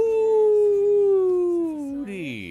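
A person imitates a wolf howl during a gaming morning show, a long sustained wavering voiced howl that slides downward in pitch, loud and close, ending with a higher rising yelp.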